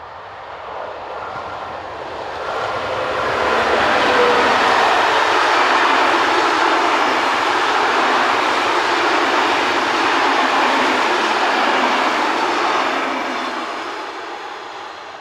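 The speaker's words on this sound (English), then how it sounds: "Here 2111 is in charge of the 1613 commuter train from Bruxelles to Landen." A Belgian Class 21 electric locomotive hauls a commuter train from Brussels toward Landen, a broad rolling rumble that swells as it nears, holds loud for several seconds while passing close, then fades away.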